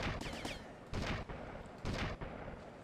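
Gunshots in GTA Vice City Stories, three sharp loud cracks spaced about a second apart, each with a short ringing tail over a steady game background.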